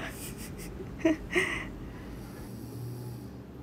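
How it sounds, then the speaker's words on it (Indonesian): A woman asleep in a hospital bed after hysterectomy surgery lets out two short snorting snores close by, against a quiet room hum. "teruskan melihat dan mendengar dengkuran saya yang sangat merdu bunyinya"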